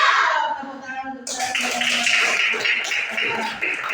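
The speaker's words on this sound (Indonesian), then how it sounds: "Tepuk tangan untuk" Schoolchildren in a classroom clapping hands together after a voice finishes speaking, a dense, close round of clapping that continues steadily to the end.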